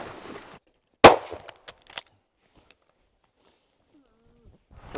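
A single sharp rifle shot cracks out during a moose hunt, loud and close, followed by a brief tail and a few faint knocks and movement sounds before the outdoor quiet returns, with murmuring at the start.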